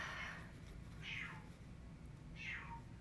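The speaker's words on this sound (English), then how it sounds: "oh my goodness, do you hear that? That was my cat." A pet cat meows three times in a quiet room, each call a clear, falling cry spaced about a second apart, moderately loud over a low background hum.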